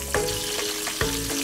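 Sliced ginger stir-fries in plenty of hot black sesame oil in a flat pan for ginger duck, giving a steady close sizzle broken by two sharp stirring scrapes.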